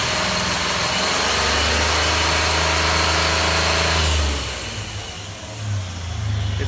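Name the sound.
2003 Jeep Liberty 3.7 liter V6 engine revving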